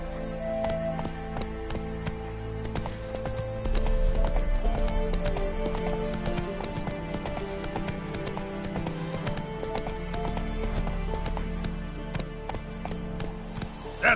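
Hooves of Roach the horse clip-clop at a gallop in The Witcher 3: Wild Hunt, a steady rhythmic beat over game music, with a brief neigh or whinny and no speech.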